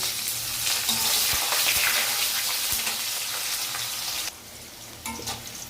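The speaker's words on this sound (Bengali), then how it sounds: "দিয়ে এটাকে আমরা একটু ভাজা ভাজা করে নেব" Chopped onions with cumin seeds, bay leaf and dried red chilli sizzle in hot oil, a dense, close frying hiss with crackles and stirring scrapes that drops in level near the end; no talking.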